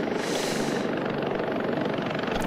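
Bell 407 helicopter in the BeamNG Drive driving game, a loud continuous rotor and turbine roar with a fast steady beat that holds at constant volume throughout.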